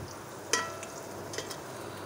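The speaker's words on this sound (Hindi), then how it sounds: "देखेंगे हमारी प्याज जो है वो अपने फ्राई होने में अपने इख्तिताम पे जा रही है" Onions fry in a pan with a faint, steady sizzle, broken by a couple of soft clinks as they are stirred, heard alone and quietly.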